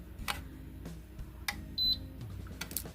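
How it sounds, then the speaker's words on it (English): A sensor device gives a short, clear electronic beep as a hand is put in, rising sharply above a quiet room with soft rustling and a few light clicks around it. "it beeps when you put your hand in"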